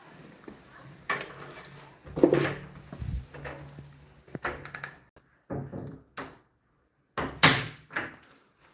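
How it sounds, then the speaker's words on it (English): A door in a workshop is shut and then locked, giving a string of close wooden thuds, clunks and latch clicks, with short quiet gaps between them. "I had to close the door there because there's a car out there. Gonna lock it."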